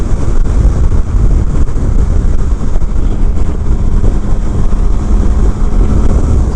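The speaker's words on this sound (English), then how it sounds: "I'll say the wind is definitely pronounced because this is a naked bike" Loud, constant buffeting wind roar while riding a 2019 Triumph Speed Triple RS naked motorcycle, a dense rushing noise with engine rumble underneath and no voice.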